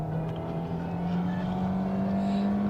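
Hyundai Tucson with a 2-liter four-cylinder engine and all-wheel drive pulls away under steady acceleration, its engine note holding a continuous, slowly rising drone from start to finish with no talking.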